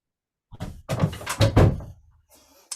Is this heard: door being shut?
yes